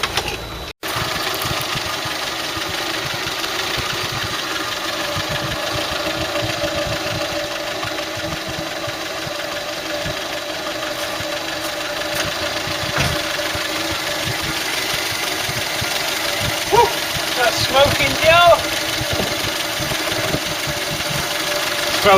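Ford Cortina MK3 estate engine idling steadily and fairly loud for a long stretch, a rough continuous tickover with a fault suspected of low oil pressure, heard alone with no talk.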